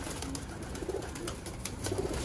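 Parwazi pigeons coo softly in short repeated phrases, fairly close, over a quiet background with a few light clicks.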